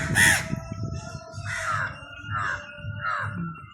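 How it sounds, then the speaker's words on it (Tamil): Crows caw loudly and close by, a harsh call followed by three more evenly spaced caws, with faint background noise. "இங்கே பாருங்க இவ்வளோ காகம் உண்டு"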